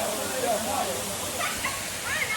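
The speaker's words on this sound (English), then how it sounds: "So there's the other waterfall." A waterfall in Tanzania's Uluguru Mountains, heard as a steady, loud, broadband rush of falling water that fills the whole clip, with people talking over it.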